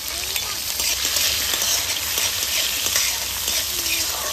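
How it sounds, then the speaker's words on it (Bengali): Chopped ginger, green chili and tomato fry in a pan over low heat, giving a steady close sizzle with faint stirring scrapes throughout. "আদা কাঁচা লঙ্কাটাকে ভেজে নেব।"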